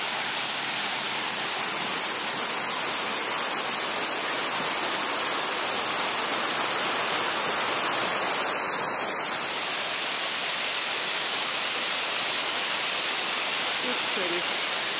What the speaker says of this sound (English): Very pretty little waterfall.